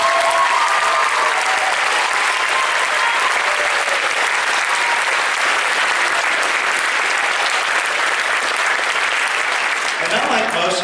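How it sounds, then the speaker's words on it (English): Sustained audience applause at a school band concert for a young trumpet player, dense steady clapping filling nearly eleven seconds before tapering off at the very end. "Give another round of applause to Jesse Deans."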